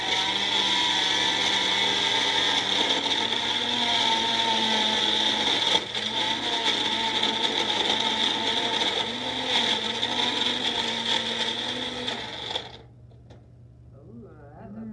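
A blender whirs through a smoothie of frozen berries, its loud, steady motor whine holding for about twelve seconds before cutting off abruptly into near silence.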